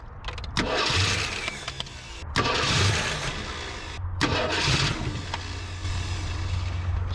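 A 1974 AMC Hornet, abandoned for 31 years, cranks over in three repeated bursts of starter churning with brief pauses between them, moderately close and without catching cleanly.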